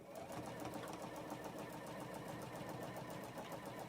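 Sewing machine stitching a puff quilt, running in a fast, even, continuous whir of needle strokes at close range, faint and steady with no voice over it.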